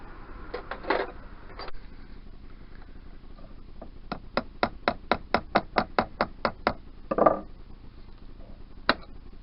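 A run of about a dozen sharp metallic taps in a quick steady rhythm, hammer blows on a screwdriver during disassembly of a 1988 Yamaha DT125R engine, with scattered clunks before and after.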